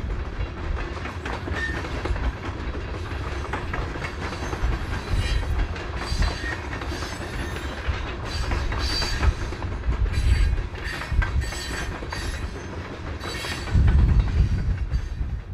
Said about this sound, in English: This train had only 75 hoppers.